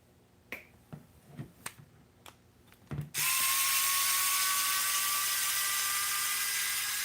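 A long screw is driven into an Axial RC crawler: a few sharp separate clicks, then a power driver starts with a loud, steady high whine that runs on without a break.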